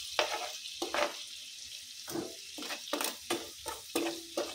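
Shrimp frying in butter are stirred in a pan, giving a steady soft sizzle broken by repeated scraping and stirring strokes at a fairly even rhythm.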